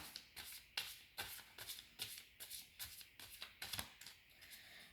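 A deck of tarot cards is shuffled by hand in quick, riffling bursts, a rapid rhythmic flutter of crisp card snaps repeating close to the microphone in a quiet room.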